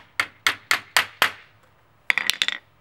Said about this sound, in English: I'm going to use a hammer because I'm not that strong.